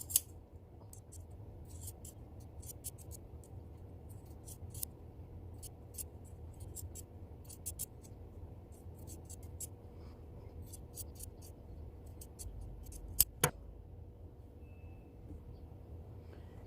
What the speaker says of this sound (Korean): 이 부분을 조금 잘라내 줄게요